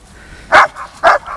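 A persistent female dog barks twice in sharp, loud, close yaps about half a second apart, each followed by a softer whining tail, with no voices.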